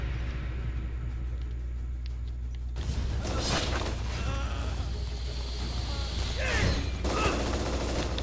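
Shadow Warrior video game gunfire breaks in abruptly after a few seconds of low hum, with dense bursts of shots and impacts that are loud and close, and a voice briefly cutting in among them.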